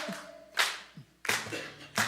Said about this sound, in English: You can clap along.